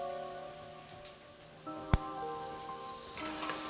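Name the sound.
mushrooms and onions sautéing in a pan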